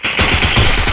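Rapid automatic gunfire from a gun in a battle royale video game, a dense loud burst of shots packed into a single second.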